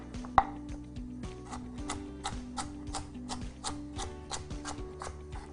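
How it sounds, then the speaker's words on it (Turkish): A knife chops vegetables steadily on a cutting board, with quick regular taps, close up and fairly quiet. No one speaks. "Bunları da doğrayalım."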